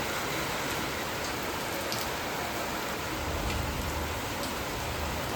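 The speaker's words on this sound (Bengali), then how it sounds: "বেরোবো আর সেই সময় বৃষ্টি।" Steady rain falling, a soft continuous hiss of drops on surfaces heard from indoors at moderate distance, even and unbroken with no voices.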